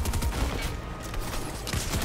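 Rapid gunfire in Fortnite, dense overlapping bursts of shots firing continuously at close range with a loud, constant intensity and no voice audible.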